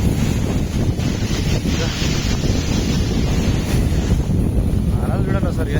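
Strong wind buffets the microphone at Pondicherry beach, with a steady roar of sea waves washing in underneath, loud and continuous throughout.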